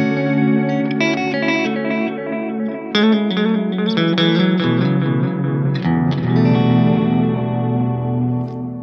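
Electric guitar played through a Strymon Timeline delay pedal with a patch imitating the El Capistan tape echo, giving sustained chords and melodic notes with repeating echoes and a wash of reverb-like modulation, loud and continuous.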